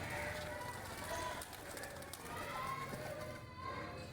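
Pet pigeons coo softly at close range, low repeated murmuring calls running through the whole stretch amid a faint background hum.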